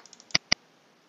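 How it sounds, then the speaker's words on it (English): A computer mouse double-clicks while formatting a Microsoft Word 2010 document: two sharp, close clicks in quick succession, alone in near silence. "Then double-click in the header space to get an active cursor."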